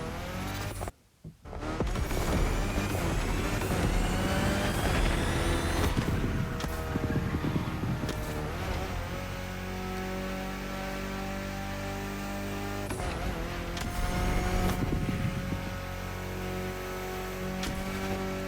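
A 2014 Golf GTI engine in The Crew Motorfest, revving and pulling steadily at close range with shifting pitch, brief tire squeal and a short drop-out near the start, no talk.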